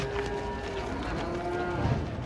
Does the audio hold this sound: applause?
no